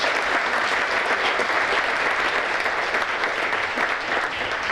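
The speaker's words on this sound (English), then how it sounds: "So let's give a round of applause to Guardian Home Warranty." Dense, steady applause from an audience at a chamber of commerce gala awards dinner, a full room clapping evenly for the whole stretch with no voices on top.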